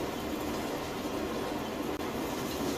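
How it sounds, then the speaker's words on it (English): A long freight train rolls past in Farming Simulator 19 on the Red River Valley map, a steady close rumble and rattle of wagons that holds without pause. "So we will let the train go past."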